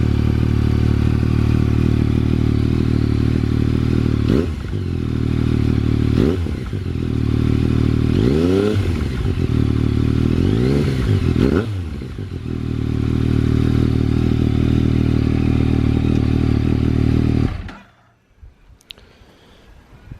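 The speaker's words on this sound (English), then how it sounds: "That's pretty much a cold start, but it sounds okay to me at the moment." A Yamaha MT-09 motorcycle engine idles steadily and loudly after a cold start, with a few clattering, scraping knocks over it, then cuts off abruptly near the end, leaving near silence.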